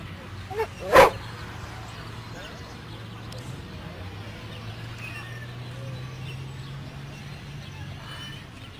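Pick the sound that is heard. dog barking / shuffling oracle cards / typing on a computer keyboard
dog barking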